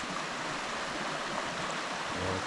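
A zigzagging creek in Georgia woods flows with a constant broadband rush of water, fairly near and uninterrupted, with no one speaking.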